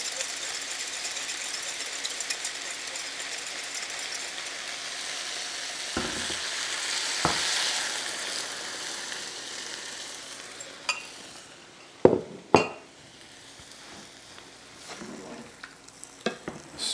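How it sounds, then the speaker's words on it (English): Chicken and a cornstarch-thickened sauce stirred in a frying pan over a soft steady sizzle, with a few sharp clanks of a utensil against the pan toward the end; quiet and close. "Now give our sauce a nice mix."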